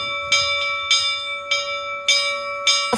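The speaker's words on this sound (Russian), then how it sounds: "потому что колокол – это олицетворение веры, призывает нас, объединяет нас этот звон колокольный" A church bell at a Kirov-area church rings in five evenly spaced strikes about every 0.6 seconds, each a bright metallic clang that sustains a steady ringing hum between hits.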